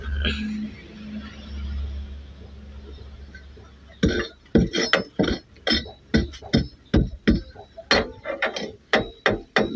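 After a few seconds of low rumble, a run of sharp hammer blows drives nails into a bathroom roof in an irregular rhythm, close and loud, with faint voices in between.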